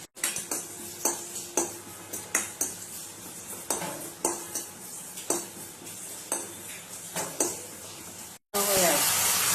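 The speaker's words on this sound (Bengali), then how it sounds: "চাটনির মশলা, গোটা জিরে আর পাঁচ ফোড়ন ভেজে গুঁড়ো করবো।" Whole cumin and panch phoron dry-roasting in a pan for chutney spice, with repeated sharp scraping and stirring strokes of a spatula against the metal, steady and close, ending in a brief burst of hiss.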